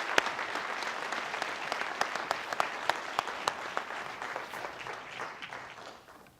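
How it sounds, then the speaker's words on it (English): An audience at a 2017 police awards ceremony in Burlington, North Carolina applauds steadily with dense clapping that gradually tapers off toward the end. "One more round of applause, please."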